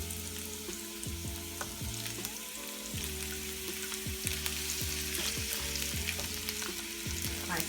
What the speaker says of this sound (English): And I'm just going to saute all of this.